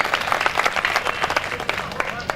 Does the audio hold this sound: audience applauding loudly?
yes